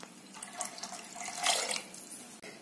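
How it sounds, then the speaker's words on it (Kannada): Water runs from a tap into a cooking pot for khichdi, four glasses' worth poured for two of rice, a steady splashing pour that swells louder midway and stops abruptly near the end, with no talking. "ಇದಕ್ಕೆ 4 ಲೋಟ ನೀರು ಹಾಕ್ತೀನಿ"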